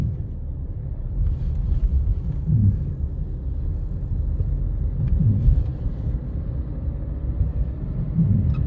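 Manual-gearbox car accelerating during a teenage learner's driving lesson, a low steady engine rumble from inside the cabin rising and settling in a few gentle surges, with no talk over it.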